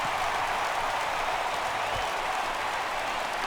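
A stadium crowd in the MLB The Show 16 baseball video game reacts to a fly ball with a steady, loud roar that swells slightly. The crowd noise fills the whole stretch with no clear talk over it.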